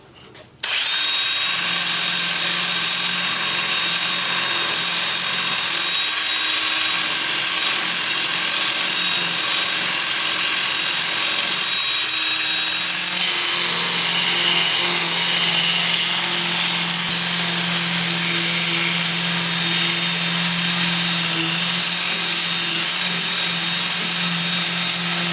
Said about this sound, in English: I will be using a 2-inch sanding disc starting at 80 grit and working up through 400